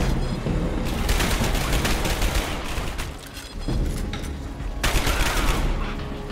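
Sustained AK rifle fire in the video game Dark Sector, loud dense bursts of rapid automatic shots running almost throughout, with a short lull near the middle before firing resumes, no talk.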